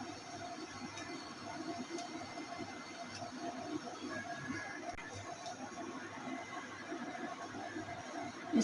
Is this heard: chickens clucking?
no